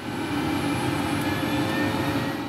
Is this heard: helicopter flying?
yes